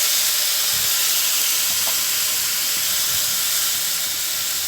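Boiled cow's milk poured onto roasted grated coconut in a pan makes a loud, steady hiss and sizzle that holds evenly for the whole stretch, with no voices.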